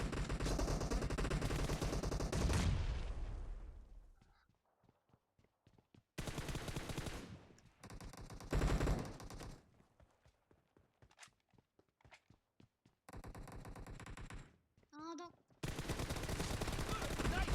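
Gunfire in the mobile shooter PUBG Mobile during an arena match: loud, dense stretches alternate with rapid strings of sharp shots and single cracks, some near and some more distant.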